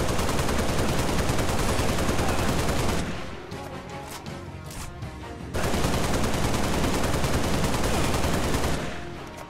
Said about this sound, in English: showing you how the Assault Rifle performs in Halo Reach